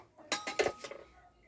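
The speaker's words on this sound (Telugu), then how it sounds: "స్టవ్ మీద కడాయి పెడదాం." A kadai pan set down on a stove, giving a few close metallic clinks and knocks over about a second, then quiet.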